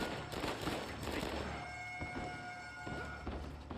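Muffled video-game gunfire in Uncharted 4 as guards shoot at prisoners, dense thumping shots and clatter under a steady background hum, a thin high alarm-like tone running through the middle.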